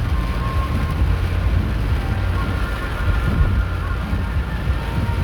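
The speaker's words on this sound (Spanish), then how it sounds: "Oh, es granizo, está cayendo granizo." Hail and heavy storm rain drum steadily on a moving car in Dallas, Texas, mixed with dense road and wind roar for several seconds, with no speech.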